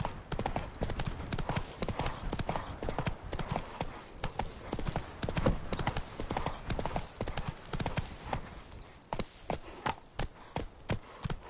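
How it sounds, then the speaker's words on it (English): Hooves of a horse clip-clop in a rapid galloping rhythm throughout, steady and moderately close, in the video game The Witcher 3. "Run, Roach."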